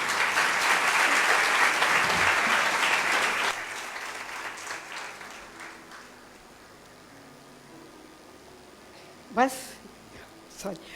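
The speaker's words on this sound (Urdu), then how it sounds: "میں چاہتا ہوں کہ ہم انہیں تالیوں کے ساتھ ویلکم کریں۔" A church congregation at a Sunday service claps loudly and steadily, then the applause fades away, leaving a quiet room with a couple of faint knocks.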